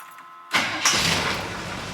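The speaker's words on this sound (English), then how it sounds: "Now we're going to listen to the starter because we're going to see how different they sound." A Summit Hi-Torque SUM-829105 starter cranks a GM small or large block engine: a sudden loud mechanical burst followed by a sustained whirring crank, heard close and alone.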